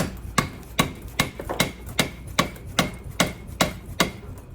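Mallet taps on a Harley-Davidson Shovelhead transmission main shaft during a rebuild, eleven evenly spaced sharp metallic knocks in a steady rhythm, close and fairly loud with no talking.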